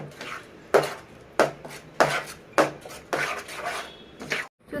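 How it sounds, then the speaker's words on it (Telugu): A spoon stirs thick chicken haleem cooking in a pot until the oil separates, giving a regular series of loud metallic knocks and scrapes against the pot, close up, with no talking. "ఆయిల్ అంతా వచ్చే వరకు కుక్ చేస్తూ ఉండాలి అండ్ మర్చిపోకుండా ఇది మిక్స్ చేసుకుంటూ ఉండాలి"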